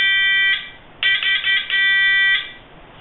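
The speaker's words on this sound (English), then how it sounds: "this uses just a little buzzer" A small Morse code practice buzzer powered by a 9-volt battery sounds in short and long tones, steady and close, with brief gaps like code being keyed.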